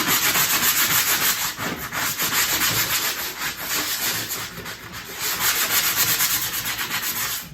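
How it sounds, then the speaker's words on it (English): Hand sanding the underside of a scrap wood screwdriver holder, continuous close rasping strokes in a steady back-and-forth rhythm, loud and alone without talk. "So go ahead and sand that underside."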